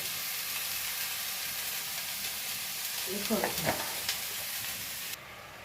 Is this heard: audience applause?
no